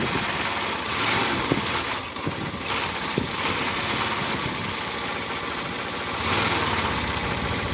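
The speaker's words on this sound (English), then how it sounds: "Sounds like an engine to me." A Yamaha SR125 motorcycle engine, started for the first time in three years after carburettor work, idles with a steady, busy single-cylinder rumble, close up, with slight rises in speed and no talk.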